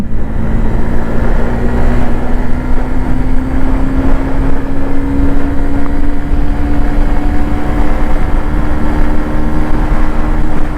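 A Honda Shine 100 DX motorcycle accelerates through its gears, the engine's steady drone climbing slowly in pitch under loud, continuous wind and road rush, with no talking.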